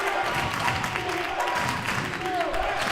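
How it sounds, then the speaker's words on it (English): Basketball arena crowd at a men's college game against Wilson, sustained cheering and applause filling the space continuously at a steady roar, with a commentator's voice running faintly over it. "And the crowd is into this."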